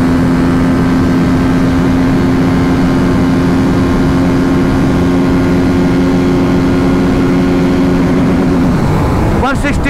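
A TVS Apache RTR 310 motorcycle engine holds a loud, steady high-revving drone pinned near the rev limiter, then the pitch shifts and falls away near the end.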